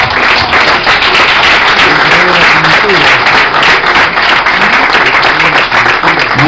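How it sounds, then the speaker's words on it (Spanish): An audience at an evening event in San Antonio Oeste bursts into sustained, loud applause, dense clapping from a large crowd that holds steady throughout without letting up. "Pido otro aplauso para esta gente."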